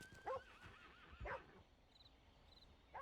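Horse in a video game neighing in two short whinny bursts, a faint chime-like tone between them, no talk.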